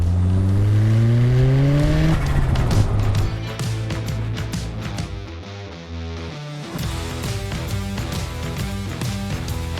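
A turbocharged Mazda MX-5 engine screams up through the revs in quick accelerating sweeps, then burbles and crackles between gear changes, loud and close with no talking.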